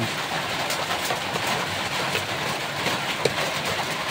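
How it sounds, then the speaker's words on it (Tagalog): Steady rain hiss, broadband and continuous, with occasional faint taps and a sharper drip near the end. "Hayaan natin yung ulan na yan."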